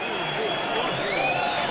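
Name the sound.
football crowd at Burnley v Wigan match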